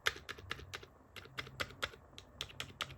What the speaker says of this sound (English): what I love is how it feels when you press the keys